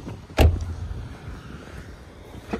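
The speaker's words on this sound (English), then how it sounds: "Open up the trunk just like that." A car's trunk lid being opened: one sharp thunk of the latch releasing near the start, then a quieter hollow rustle as the lid rises, with a faint second click near the end over low background hum.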